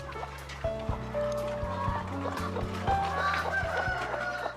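Hens in a farm coop cluck and squawk in short bursts at close range while eggs are gathered into trays, with scattered rustling and an occasional crow in the background.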